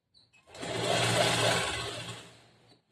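An electric sewing machine runs one continuous burst of about two seconds, stitching a folded blouse edge with white thread. The whir is close and steady, rising and then winding down.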